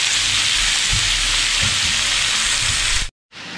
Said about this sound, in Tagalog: At siya naman ating igigisa.